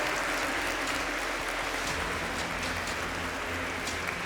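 Steady audience applause during a talent-show finale elimination, a dense, even wash of clapping that holds at constant loudness from start to finish with no voices over it.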